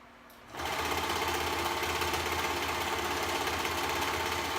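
A sewing machine runs steadily while stitching a sleeve onto a dress top, three fabric pieces joined at the seams; after a brief quiet start the motor hums loudly and evenly for the rest of the clip, with no talking.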